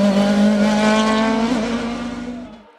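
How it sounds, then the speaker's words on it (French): A Norma M20 FC 2-litre race car on a hill climb, its engine holding a loud, steady, high-pitched drone close by that thins and fades as the car pulls away. "Dimitri Pereira s'y impose sur sa Norma M20 FC 2 litres et termine 10e au général."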